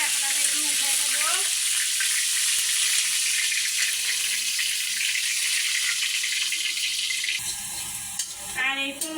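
Roast pieces and sliced onions fry in hot oil to make birista, giving a loud, dense, continuous sizzle throughout, with a few utensil clatters and a brief shift in the sizzle near the end.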